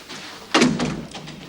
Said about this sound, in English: Yes, close the door, would you?